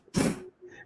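A single short, sharp sneeze bursts out close by, followed by a brief faint murmur.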